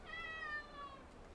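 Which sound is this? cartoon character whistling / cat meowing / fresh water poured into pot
cat meowing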